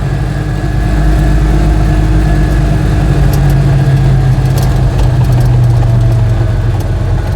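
A motorcycle engine in the Elan Valley under opened throttle, giving a loud, steady low drone that runs continuously from start to finish with no voices over it.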